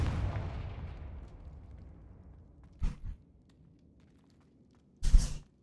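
A fiery Confringo spell explosion in Hogwarts Legacy bursts with a loud boom that rumbles and fades over a few seconds, followed by two sharper, smaller blasts later on.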